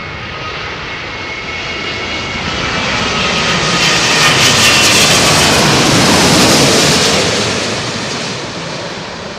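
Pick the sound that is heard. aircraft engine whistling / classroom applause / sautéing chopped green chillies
aircraft engine whistling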